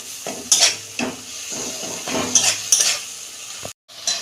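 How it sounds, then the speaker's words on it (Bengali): Spice paste being sautéed in oil for a Bengali fish curry, with steady sizzling and repeated scraping and clinking of a spoon against the pan, close and fairly loud. "এটা দু মিনিট ভালো করে কষাবো আমি তেল ছাড়লে তারপর সবজিগুলো দেবো"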